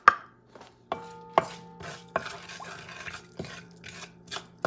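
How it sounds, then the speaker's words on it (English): Three or four garlic cloves being chopped with a knife on a board for goat curry, a series of sharp, close, irregular thuds and taps, heard alone without talk. "I'm going to add about 3 or 4 teeth of garlic, which I chop."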